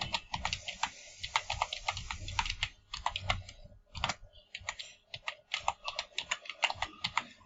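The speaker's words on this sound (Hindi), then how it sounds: "यहाँ पर जो है ईमेल एड्रेस टाइप कर देंगे" Rapid clicking of a computer keyboard as an email address is typed into a forwarding window, steady bursts of close keystrokes with brief pauses, no talking.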